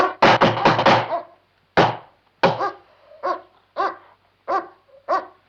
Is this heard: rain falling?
no